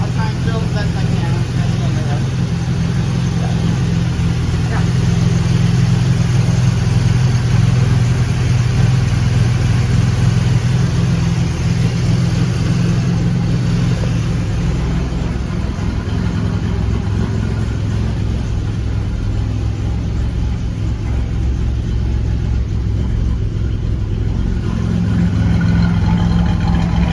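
Old car engine running steadily throughout with a constant low hum, the timing slightly off from a distributor set out just a hair, heard up close with some faint background noise.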